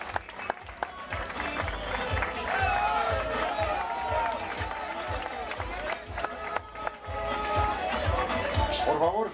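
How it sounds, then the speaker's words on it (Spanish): Crowd along a race route applauding steadily at moderate distance, with dense rhythmic clapping and scattered cheers, while someone talks over it on a loudspeaker. "Un fuerte aplauso, por favor"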